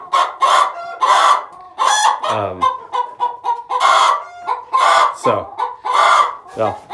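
A hen clucks loudly and repeatedly at close range, with sharp squawks and short rising calls mixed among the chicks. The calls come in an irregular, busy rhythm, with no talk over them.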